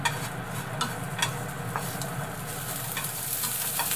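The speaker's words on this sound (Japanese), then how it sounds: "軽く炒めます" Horse mackerel fillets stir-fried lightly in a pan over medium heat give a steady close sizzle and frying hiss, with occasional clicks of a utensil stirring against the pan.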